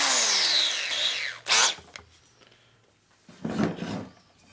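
Power tool spinning a half-inch carbide burr at low speed to deburr a hole in a 1957 Harley panhead part: a short whirring grind that tails off, then two brief bursts of cutting noise, close by with no talk.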